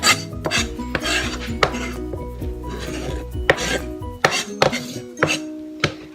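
A knife chopping jalapeno on a cutting board, a run of sharp close knocks in uneven bursts with brief pauses and scraping between strokes.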